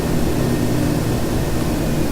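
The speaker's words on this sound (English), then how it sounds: "Activate thrust reversers and get ourselves off the runway." Q400 turboprop engines roaring at high power in the FlightGear flight simulator during thrust reversal, a loud, steady broadband whoosh with a constant hum and no talking.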